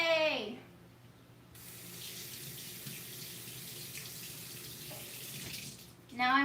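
A household tap runs into a sink for washing, a steady hissing stream that starts after a short pause and cuts off near the end, with a person speaking just before and just after.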